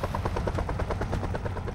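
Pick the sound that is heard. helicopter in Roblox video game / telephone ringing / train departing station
helicopter in Roblox video game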